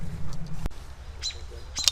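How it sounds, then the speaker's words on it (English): Small birds chirp in a park woods beside water, a few short high tweets at moderate distance over a soft outdoor background, with a brief knock partway through. "A lot of birds just chirping right here by the water."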